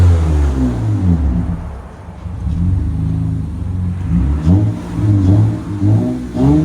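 A 2019 Honda Ridgeline Sport with a 3.5L V6 and aftermarket Yokama exhaust revs repeatedly, a loud deep rumble that rises and falls in several throttle blips, close up, with no talking.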